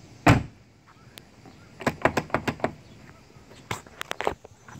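Door lock and door closing on a 2017 Ford Fusion: a loud thunk near the start, then a quick run of sharp clicks and latch taps, with a few more clacks toward the end.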